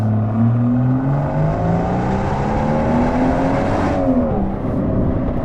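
A widebody Rolls Royce Cullinan Black Badge, tuned to 707 horsepower, revs hard with a loud, steady exhaust note that climbs in pitch, then drops sharply near the end before building again.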